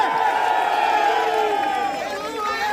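A large crowd at a sanitation workers' protest rally cheers and shouts steadily. The roar is loud and dense and holds without a break, with no distinct claps standing out.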